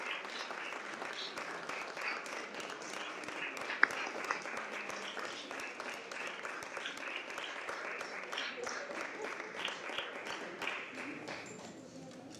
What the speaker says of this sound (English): let's all just give a big round of applause and congratulate service team Chris and Lauren.